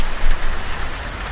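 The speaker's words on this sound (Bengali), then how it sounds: "বৃষ্টি যেন এখন ছাদের উপরে আঘাত করছে।" Steady rain pattering on a roof during a storm, a dense continuous hiss of drops, fairly loud and close with no voices.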